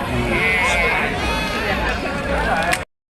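Goats bleating repeatedly at a weekly livestock market in Prakasam district, Andhra Pradesh, amid a chatter of people talking nearby, the animal calls overlapping with the voices before the sound cuts off abruptly.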